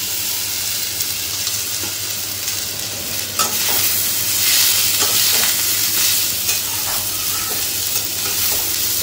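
Nigella seeds and peel frying in a pan make a steady, close sizzle, with occasional scrapes and clicks of stirring and no talking.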